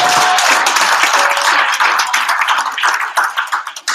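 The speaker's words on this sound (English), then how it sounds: "Big round of applause." A dense hackathon audience applauding loudly and steadily, the clapping thinning toward the end into scattered individual claps.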